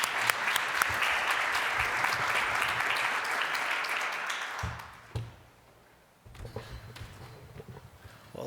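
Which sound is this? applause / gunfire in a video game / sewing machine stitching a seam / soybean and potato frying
applause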